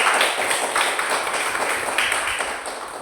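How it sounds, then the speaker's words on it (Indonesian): Students clapping for the first group in a classroom, a fairly loud, close wash of many hands with scattered sharper claps, sustained throughout and easing slightly at the end. "Tepuk tangan untuk kelompok 1."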